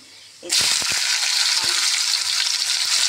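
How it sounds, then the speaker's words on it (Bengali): Potatoes and green chillies hit hot oil with nigella seeds, bursting into a loud, sudden sizzle after a quiet start, with a few crackling pops and then a dense, steady frying hiss that continues to the end. "আলু আর কাঁচা লঙ্কা একসাথে দিয়ে দিলাম"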